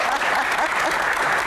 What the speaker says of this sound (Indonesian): Boleh tepuk tangan buat Kang.